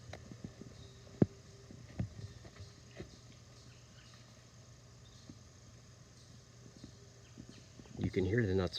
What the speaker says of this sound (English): if you hear a banging noise, that's the nuts hitting the house next door.